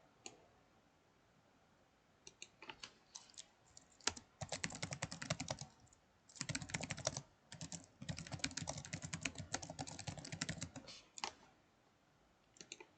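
Rapid typing on a computer keyboard while entering text in InDesign, bursts of quick close key clicks separated by short pauses, fairly quiet and with no voices.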